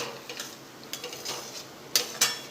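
Spoon stirring and scraping semolina and mawa in a pan for Gujarati amrut pak, soft and steady, with two sharper metallic scrapes near the end.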